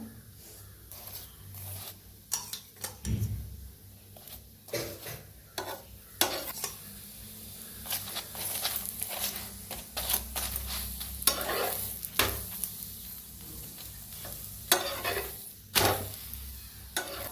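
A chapati roasting with oil on a pan gives a low steady sizzle, overlaid with frequent irregular scrapes and taps as it is pressed and turned.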